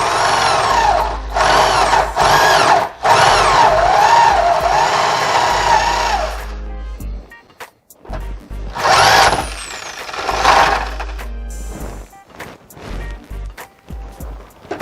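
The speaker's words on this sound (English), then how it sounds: "Now I just have to drill an even bigger hole right there" A power drill whines loudly in long bursts while boring a larger hole through a workbench part, its pitch sweeping up and down as it bites, pausing briefly, then running again before stopping.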